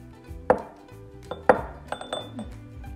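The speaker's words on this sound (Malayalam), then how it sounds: "എഗ്ഗ് പൊട്ടിച്ച് ഒഴിക്കണം" An egg is cracked into a bowl while mixing an orange cake batter: two sharp, close knocks against the rim, followed by a few lighter clinks and taps.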